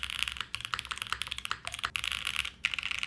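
Typing on a Line Friends custom mechanical keyboard, a steady, fairly quiet stream of close, clacky keystrokes with brief pauses between bursts.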